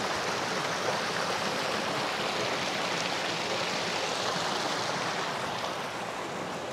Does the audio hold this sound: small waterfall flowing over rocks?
yes